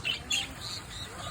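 Birds chirping at a zoo while visitors feed them, with a few brief bright chirps near the start over steady background noise.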